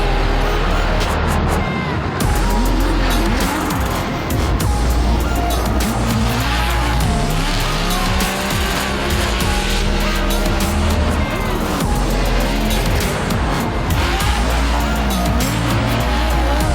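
Loud, continuous engine roar and screeching tire squeal from drift cars sliding at a Formula Drift event in Atlanta, with revving pitch swings throughout and faint voices underneath.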